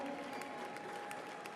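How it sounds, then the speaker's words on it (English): Arena crowd applauding after an MMA bout, a steady wash of clapping at moderate distance with no individual voices standing out. "how about a round of applause for these two gentlemen inside the ring tonight?"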